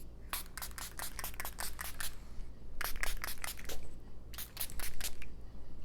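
Ciate London coconut body spray is pumped in rapid bursts of short, crisp hissing squirts, grouped into three quick volleys with brief pauses between them, close and fairly loud.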